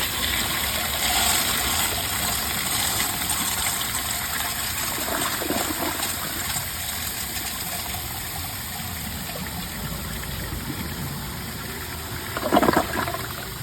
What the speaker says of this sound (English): The tank is overfilling, siphon jet is still clogged. Let's give it a flush.